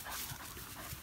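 A dog close by gives soft, breathy whimpers and panting sounds during a single second outdoors, with no talking.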